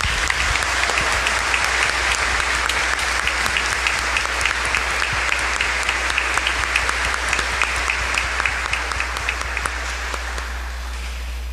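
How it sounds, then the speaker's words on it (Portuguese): A church congregation at a Catholic mass, during the triduum before the feast of Nossa Senhora dos Pobres, gives a sustained round of dense, steady applause. It lasts about eleven seconds, with no talking over it. "nós queremos demonstrar o nosso carinho, o nosso amor com a salva de palmas"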